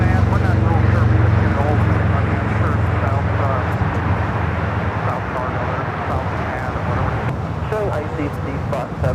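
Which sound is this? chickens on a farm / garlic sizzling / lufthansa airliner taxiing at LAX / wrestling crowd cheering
lufthansa airliner taxiing at LAX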